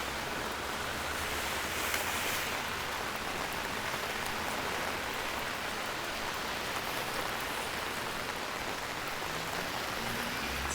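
Heavy rain pours steadily onto a city street in Toronto's Little Jamaica on an October night, a dense, unbroken hiss of downpour close around with no voices over it.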